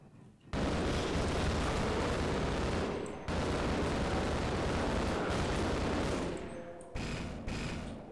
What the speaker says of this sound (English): What is that cannon? I haven't seen that before.